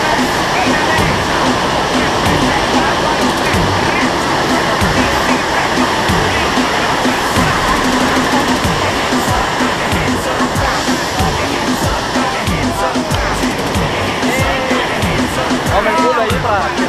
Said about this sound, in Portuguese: curtindo a cascata do Panelão, que cai no Panelão